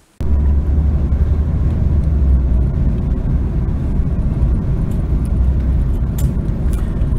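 A vehicle drives along a road with a loud, steady low rumble of engine and road noise that starts abruptly and stays constant and close throughout.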